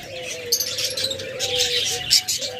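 A pair of red and grey diamond doves, sitting on eggs among caged birds, gives soft low repeated coos while smaller birds chirp brightly over them nearby.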